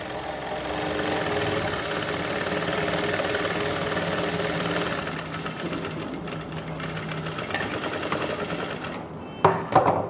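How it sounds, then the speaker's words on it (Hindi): A sewing machine runs steadily, stitching the back part of a blouse with thread gathers, a continuous close mechanical whir that thins out toward the end before a couple of sharp clicks. "पहले सिलाई लगा लो ऐसे,"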